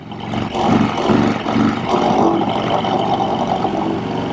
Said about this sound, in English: He's got the Knucklehead engine in there.